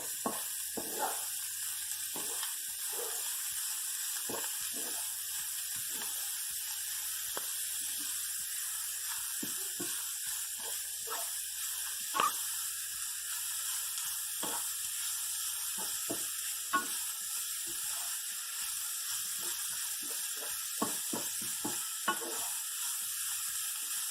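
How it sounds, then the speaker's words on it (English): Grated raw beets and carrot for borscht being stirred in a pot: a soft, low sizzle with scattered spoon scrapes and clicks at uneven intervals, fairly quiet overall. "So we're going to add this in. And I'm basically stir it around."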